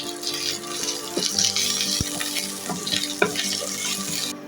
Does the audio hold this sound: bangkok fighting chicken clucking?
no